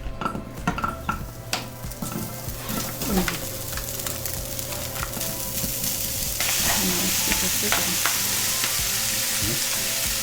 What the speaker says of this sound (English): Pan's hot, let's heat up our pork.